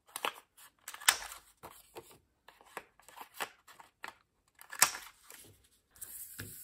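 Scissors rounding the corners of paper for a junk journal, giving a run of short, crisp snipping and rustling clicks in an irregular rhythm, close and fairly loud with brief pauses, and no speech.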